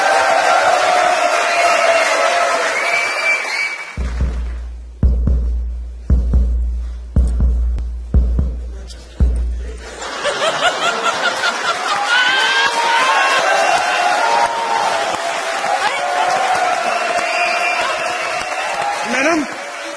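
A studio audience of children at a TV comedy show cheers and claps loudly, then falls away while a slow, rhythmic thumping beat plays, before the crowd noise swells back up and continues.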